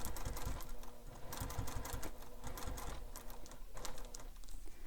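Sewing machine stitching a bag seam at a short stitch length, quiet irregular bursts of mechanical clatter with brief pauses between runs, close by and with no talking.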